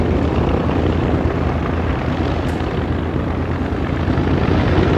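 B-25 Mitchell bomber rolling down a runway, a steady loud broadband roar of piston engines and propellers that holds evenly throughout with no pauses.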